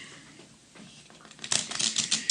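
A deck of playing cards is shuffled for a card trick, a quick flurry of crisp riffling flicks that builds up close and alone toward the end, after a quieter stretch.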